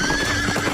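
A black horse gives a loud, close, wavering neigh over a dense clatter of hooves, all packed into under a second.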